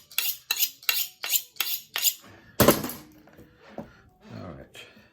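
A trusty kitchen knife works through chicken pieces to remove the bones, giving a run of six regular sharp clicks and knocks against a board, then a heavier thud and scattered softer cutting sounds, close and fairly loud.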